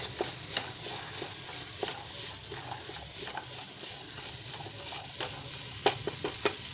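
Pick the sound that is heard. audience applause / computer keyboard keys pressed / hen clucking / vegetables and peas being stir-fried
vegetables and peas being stir-fried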